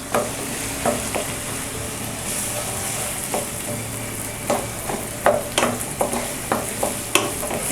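Large chunks of two onions fry in a pan with ginger-garlic paste for a Bengali chicken stew, a steady sizzling hiss broken by sharp spoon-against-pan clatters that come more often toward the end, with no talking.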